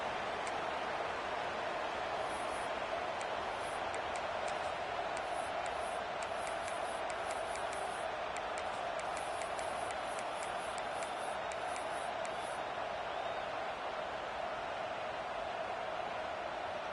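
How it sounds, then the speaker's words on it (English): Stadium crowd noise from the NCAA 26 football video game at an Auburn home game: a steady, dense roar of many voices holding constant throughout, with faint high ticks over it and no clear speech. "This crowd bringing the energy and noise early"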